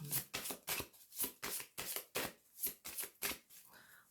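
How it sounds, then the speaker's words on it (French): Tarot cards being handled and laid out for a reading, a rapid series of about a dozen crisp flicks and slaps close up, evenly spaced, with no talk. "on va recouvrir certaines cartes"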